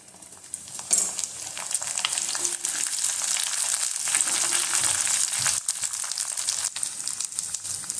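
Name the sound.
green chillies frying with coconut in a pan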